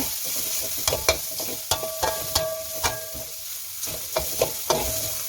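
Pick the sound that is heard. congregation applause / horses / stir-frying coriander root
stir-frying coriander root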